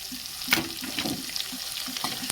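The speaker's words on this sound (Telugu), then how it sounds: "అలాగే అల్లం వెల్లిపాయ పేస్ట్ కూడా వేస్తానండి" Two spoons of ginger garlic paste sizzle in a hot pan as it is stirred, a close, soft crackling fry broken by a few light scraping stirs and brief spatters, with no speech.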